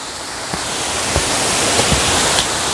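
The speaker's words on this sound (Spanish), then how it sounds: "Vean cómo sale el agua por ahí." Boiling hot spring water gushes out at a spa, making a loud, continuous broadband rush with occasional faint knocks, and no one talks.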